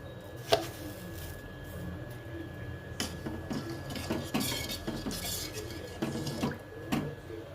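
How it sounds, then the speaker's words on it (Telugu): A spoon adds sugar to a pot of masala chai, giving a few light metallic clinks and taps against the pot over a quiet steady background hum, close and fairly soft, with no voices. "రెండు స్పూన్ షుగర్ వేస్తున్నాను."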